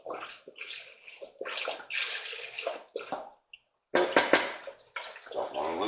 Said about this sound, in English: we're going to add in our beef broth.